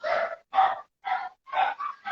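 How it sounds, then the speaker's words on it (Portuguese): Dogs bark excitedly in five short, loud bursts close by, with brief gaps between them and no talk over them. "Até os cachorros estão animados, tá vendo?"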